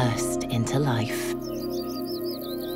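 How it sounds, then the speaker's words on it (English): Birds sing on sunlit midsummer meadow slopes in a valley in Turkey, a run of bright chirping calls growing clearer after a voice speaks over the start. "valleys ring out to the sound of birdsong"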